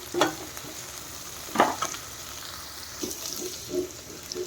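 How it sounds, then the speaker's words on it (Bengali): Crushed garlic and onion frying in a pan for a fish curry, a steady close sizzle with occasional louder stirring scrapes and clatters at a few moments. "রসুনটাকে একটু ভেজে নিই, পেঁয়াজটাকে।"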